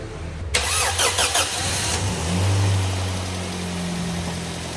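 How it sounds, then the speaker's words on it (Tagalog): An overhauled twin Z engine cranks and fires, catching after a second of starter whine and settling into a loud, steady idle close by. "Start mo nga, idol. Tingnan natin yung andar."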